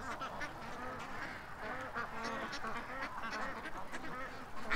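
A flock of riled-up ducks quacks and honks beside a creek, overlapping nasal calls in a busy, continuous chorus at moderate distance.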